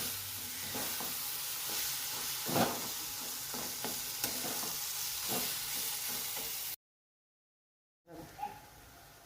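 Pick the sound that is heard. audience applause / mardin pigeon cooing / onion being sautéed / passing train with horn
onion being sautéed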